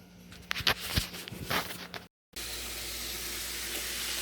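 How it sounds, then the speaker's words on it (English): Hot oil sizzles steadily as chicken fries in a pan, preceded by clattering and stirring sounds, then a brief cut before the constant frying hiss continues. "Frying chicken and doing this stuff"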